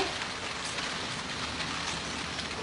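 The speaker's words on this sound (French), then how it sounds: "Il va pleuvoir toute la journée." Steady rain falls on a surface, a dense, even hiss of countless drops with no pauses and no voices.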